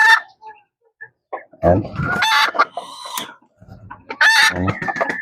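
Chickens cluck in short bursts close by, with a few louder squawking calls and a brief spoken word between them.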